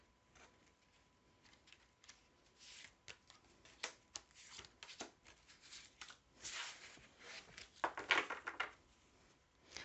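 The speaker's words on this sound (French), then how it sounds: "On va tirer les 5 cartes." Tarot cards drawn and handled one after another: a string of soft, papery rustles and flicks, close and fairly quiet, with a few sharper snaps near the end and no talking.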